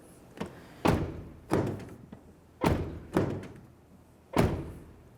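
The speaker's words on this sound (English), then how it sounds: "I'll test it by opening and closing the door" A Nissan Titan pickup truck door is worked repeatedly, with five or six heavy thuds as it swings and shuts, spaced about a second apart, close by.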